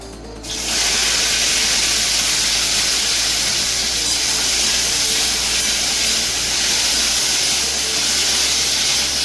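Okra frying in a pan in a hot home kitchen: a loud, constant hiss and sizzle starts abruptly after a brief quiet moment and then holds steady, close up, with no voices.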